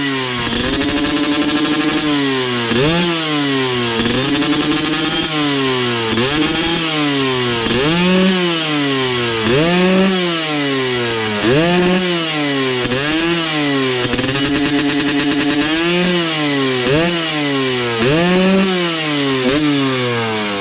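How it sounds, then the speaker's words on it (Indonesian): Two-stroke motorcycle engine being warmed up, revved hard in repeated loud blips that rise and fall about every two seconds, close and continuous with no talk. "Caranya menghidupkan motor 2 tak yang baru kita panasi"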